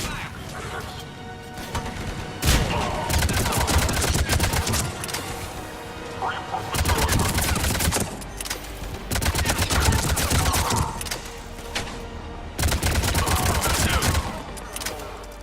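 Bursts of rapid gunfire, crashes and impacts rain down on a pod in the Mass Effect 3 game, loud and repeated in several long volleys with short lulls between them.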